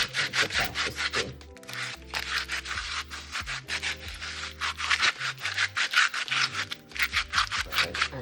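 Carrot skin scraped off by rubbing with a utensil instead of a knife, a close rhythmic run of rasping strokes in short bursts, repeated steadily with brief pauses and no talk.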